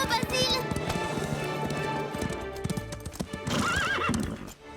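Hooves clatter rapidly as horses gallop past, with a loud whinny rising near the end.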